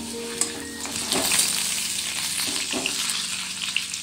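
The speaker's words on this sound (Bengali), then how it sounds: "আলুগুলোকে একটু লাল করে ভেজে নিতে হবে" Potatoes fry in hot oil in a wok for khichuri, with a bright steady sizzle broken by a few sharp clinks and scrapes of stirring, close and loud with no talking.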